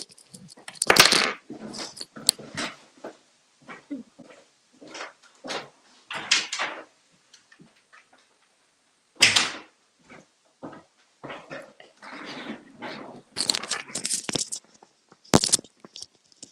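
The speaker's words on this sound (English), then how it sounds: "The problem is he knows how to open doors." A dog works at a door from inside, producing scattered knocks, rattles and scraping bursts in irregular clusters, with quiet gaps between them and a sharp clack near the middle.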